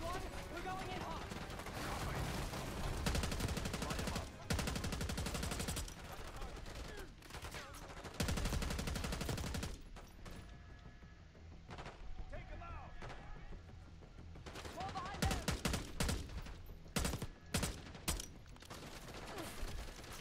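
Sustained heavy gunfire and explosive blasts from the Black Ops 6 campaign mission Hunting Season, long dense volleys broken by brief pauses, then sharper scattered shots toward the end, with voices occasionally mixed in.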